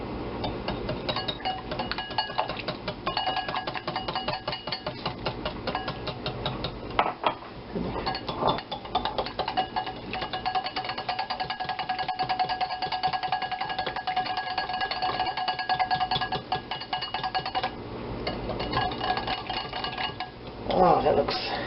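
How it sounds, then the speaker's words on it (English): Egg yolks and olive oil being beaten together in a bowl, with a steady stream of rapid clinking and scraping from the utensil against the bowl and a low background hum, continuous close up for about twenty seconds. "You take the olive oil and we beat that into our 3 egg yolks"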